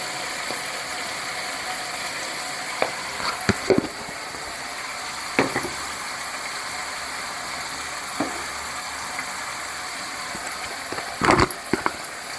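Chili powder sizzles in hot oil while frying for a garlic pepper kuzhambu. A steady, even hiss continues throughout, broken by a few sharp clicks and scrapes from stirring.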